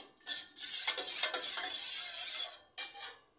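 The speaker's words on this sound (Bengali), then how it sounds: "এখানে আমি মালাই সহ হাফ কাপ দুধ দিয়ে দিব। দুধগুলো আমি নেড়ে চেড়ে নিব।" Spoon stirring half a cup of milk with its cream (malai) in a pan: a steady scraping, swishing run of close strokes that pauses briefly near the end and resumes for a moment.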